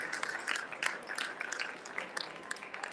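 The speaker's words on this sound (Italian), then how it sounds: "l'applauso e il saluto di Michele Dalfarra." Crowd applause at a fair event in Longarone, steady dense clapping from many hands, fairly distant and faint, with no voice over it.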